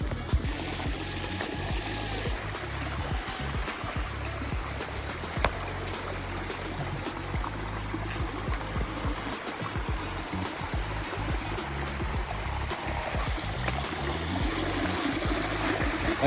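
Steady rushing water of a stream between two mountains near a well, muddy after rain, a continuous close wash of flowing water with no pauses.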